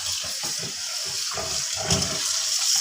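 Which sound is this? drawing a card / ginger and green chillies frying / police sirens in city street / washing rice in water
washing rice in water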